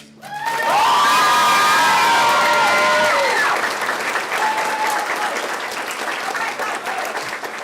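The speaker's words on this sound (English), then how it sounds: "we have to clap for Rachel" An audience applauds and cheers at a theatre performance, loud sustained clapping with whoops and high children's shouts on top early on, settling into steady clapping that carries to the end.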